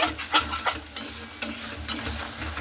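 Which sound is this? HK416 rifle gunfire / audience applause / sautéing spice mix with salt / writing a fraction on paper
sautéing spice mix with salt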